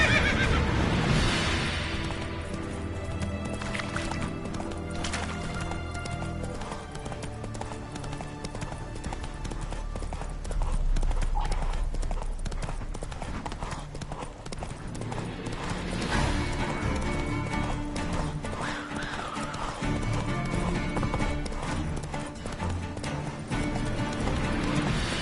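A horse named Roach, in a PS4 video game, clip-clops steadily along and gives loud whinnying neighs over a dense game soundtrack. The hoofbeats run continuously throughout the stretch.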